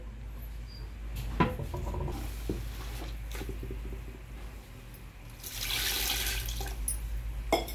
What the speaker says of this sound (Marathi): आता याला मी हाताने चोळून घेते आधी.